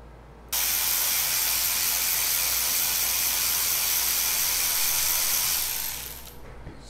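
A Milwaukee cordless ratchet runs at max RPM, a steady, loud whirring hiss that starts abruptly after half a second, holds constant for about six seconds, then winds down near the end.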